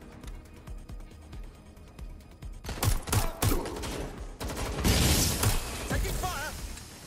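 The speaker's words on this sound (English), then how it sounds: "Taking fire!" Gunfire in the video game Watch Dogs: Legion crackles in rapid bursts and single loud shots after a quieter start. Shouting voices sound over the battle.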